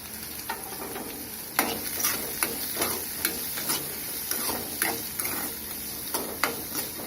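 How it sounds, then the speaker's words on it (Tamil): Onion, green chilies and curry leaves sautéing in a pan for cabbage poriyal: a soft, steady sizzle broken by regular spoon scrapes and taps against the pan, heard close and without any talking. "நல்லா வதங்கிட்டேன். வெங்காயம் வதங்கிச்சு."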